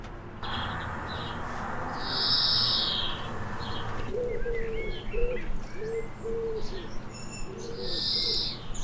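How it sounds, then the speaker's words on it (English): House sparrows in an English birdwatching setting give repeated bright chirps in short bursts over steady background noise, moderately near and with no talking. "These are house sparrows."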